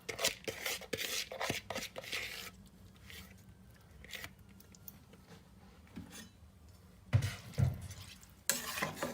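Drained rice in a pot of water stirred with a spoon: bursts of scraping and sloshing strokes, a quieter stretch in the middle, then a few more strokes, all up close.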